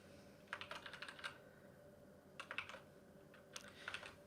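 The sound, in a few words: typing code on a computer keyboard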